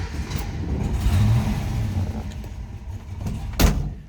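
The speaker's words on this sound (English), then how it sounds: "let's go ahead and start this up so you can hear it run" A 1970 Ford Mustang Boss 302 engine cranks and catches, then idles and revs with a steady mid-pitched rumble, followed by a short sharp knock near the end.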